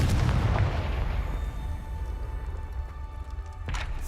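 Confringo spell blasts in Hogwarts Legacy: a heavy booming explosion with deep rumble that slowly decays, followed by a second sharper burst near the end, loud and close.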